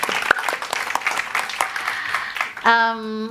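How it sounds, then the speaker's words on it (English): An audience at an arts and culture talk on reviving city spaces claps in a steady patter of applause for several seconds before a sustained musical tone cuts in. "Big round of applause for Sarah."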